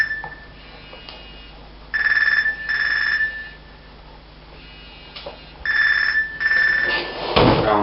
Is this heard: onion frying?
no